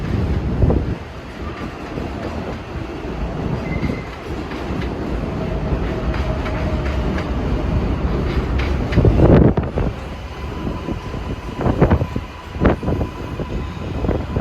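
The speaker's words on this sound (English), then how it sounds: "Got a Flushing local arriving, and the express is about to enter the station." A 7 line subway train in New York rumbles into an elevated station as a Flushing local arrives, with an express also approaching. A heavy continuous roar, rattling wheel clatter and screeching rises and falls, with wind buffeting the microphone.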